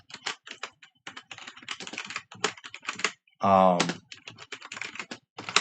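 Rapid, irregular clicking of fingers typing on a computer keyboard, close and fairly loud, with a short burst of speech breaking in midway.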